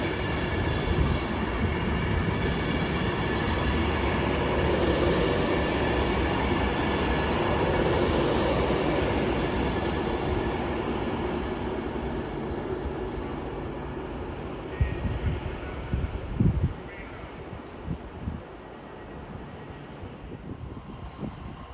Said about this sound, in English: Avanti West Coast service from London Euston to Edinburgh by Bakerloo Street, 390-002.